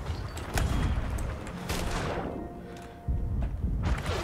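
Cannons firing during a ship battle in Sea of Thieves, heavy booming shots and thuds rolling one after another, loud and dense with little quiet between them.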